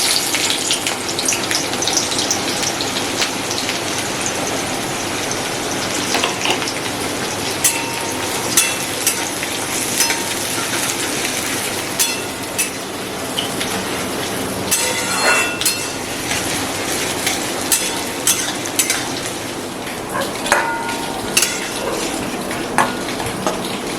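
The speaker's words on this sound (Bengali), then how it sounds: "হাফ পেঁয়াজ আমি বেরেস্তা করে নেব।" Sliced onions fry in a pan for beresta, a continuous loud sizzle with frequent sharp clinks and scrapes of a utensil stirring them.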